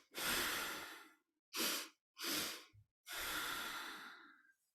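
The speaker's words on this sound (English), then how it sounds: "breathe in really, really deep and hold with your lungs open" Deep, slow breaths during a 3-2-1 breathing exercise: four long, close airy inhales and exhales separated by short pauses, heard alone without talk.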